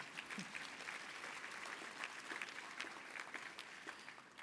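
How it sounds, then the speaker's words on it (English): A crowd at a human rights awards ceremony claps steadily and fairly quietly for several seconds, the individual hand claps blending into an even patter. "we'll give you a big round of applause in absentia"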